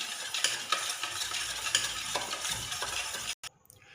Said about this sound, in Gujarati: મરચું નાખી દઈશું, આ બધું વસ્તુ મિક્સ કરી દઈશું।